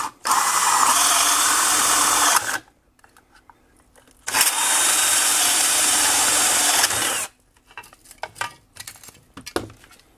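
Power drill boring through a plastic light-switch wall plate, two long steady whining runs of a few seconds each separated by a pause, followed by scattered clicks and handling noises.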